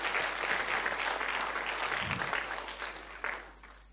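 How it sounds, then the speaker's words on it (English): An audience applauds a speaker at a church renewal gathering, a dense steady clapping that fills the room and tapers slightly toward the end. "Let's give him a clap."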